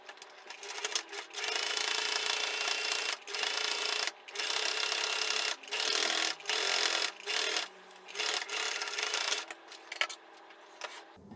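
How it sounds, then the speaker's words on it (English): A sewing machine topstitching along the inner edge of a bulky fabric undermat organizer, running in bursts of rapid whirring stitches broken by short pauses, close and steady. "slowly I'm going to top stitch along the inner edge"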